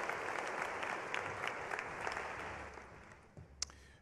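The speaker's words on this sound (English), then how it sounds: "Please recognize him and the excellence he represents with your applause." Audience applause at a spring graduation commencement for the College of Education and Human Sciences, a steady wash of many hands clapping from a large crowd, sustained and fairly distant, tapering slightly toward the end.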